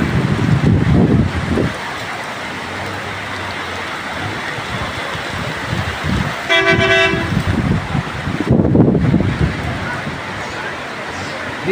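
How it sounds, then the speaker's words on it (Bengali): Heavy rain with gusty storm wind in Kaliganj, Jhenaidah, a dense steady roar throughout, with a vehicle horn tooting briefly partway through and passing road traffic. "বৃষ্টির সাথে ঝড়ো হাওয়া হয়ে যাচ্ছে, একাধিক মানে হাওয়া হয়ে যাচ্ছে।"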